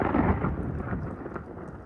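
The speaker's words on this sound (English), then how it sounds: "There's a nice little lightning, streak lightning there" Deep rumbling thunder rolls steadily through a Texas thunderstorm after a lightning strike, a low sustained boom that slowly fades, with light rain in the background.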